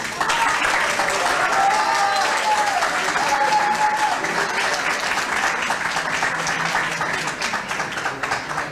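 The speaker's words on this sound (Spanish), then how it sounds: "Aplauso cariñoso a Guillermo Gut" Sustained audience applause at a conference talk in Chile, dense and steady throughout with a few brief tonal squeaks or whistles early on, fading slightly toward the end.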